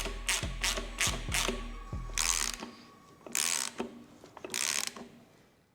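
Freshly assembled WARN 8274 high-mount winch mechanism being turned by hand, giving a run of quick, close ratcheting clicks followed by three slower, louder grinding pawl bursts, with no voices.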